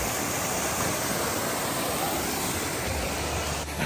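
Kagho Waterfall in Georgia's Martvili Canyon area roars as a steady, dense wash of falling water, loud and close, with no voices.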